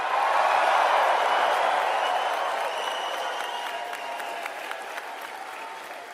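A large crowd at a political rally in Surrey, British Columbia claps and cheers, a dense, steady roar of applause that is loudest early on and slowly tapers off.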